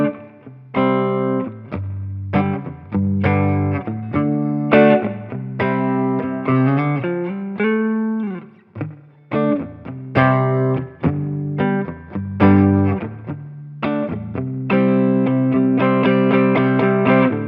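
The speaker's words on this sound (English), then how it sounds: "So that's your spring reverb right there" Electric guitar played through a Line 6 Catalyst amp with spring reverb, a run of picked chords and single notes with a splashy, bouncing reverb tail, loud and continuous with a short dip mid-phrase.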